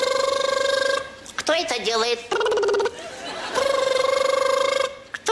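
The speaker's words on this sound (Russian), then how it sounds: "А, это ж телефон." A loud electronic telephone ring tone sounds in steady repeated bursts, cut off midway while voices speak and laugh, then the ringing resumes close and loud.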